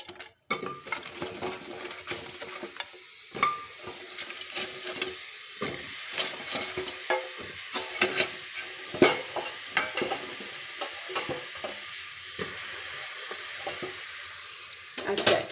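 Eggplant is added to a pan for a broccoli-stem chachchari and fried, with a soft sizzle under repeated close scrapes and clacks of a spatula stirring the pieces.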